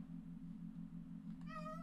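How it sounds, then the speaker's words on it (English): Cat in Minecraft, a short high meow rising out of a low steady hum near the end, brief and faint. "Oh, a cat killing something."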